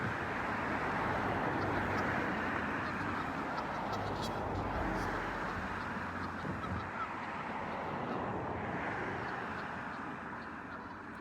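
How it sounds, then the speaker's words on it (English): Geese honk repeatedly near a busy road in mating season, their calls faint and scattered over a constant broadband wash of passing traffic and wind. "And geese."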